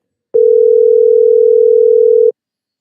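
Steady telephone dial tone while placing a call to Jacob Allen, one unbroken loud tone lasting about two seconds with no talk over it.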